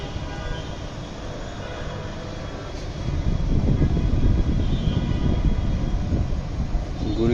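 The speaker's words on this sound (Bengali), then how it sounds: "ওই মেট্রো রেল যাচ্ছে, দেখতে পাচ্ছেন" A Dhaka metro rail train heading from Motijheel station toward Uttara in light drizzle passes nearby, its low rumble swelling partway through and staying loud and steady to the end.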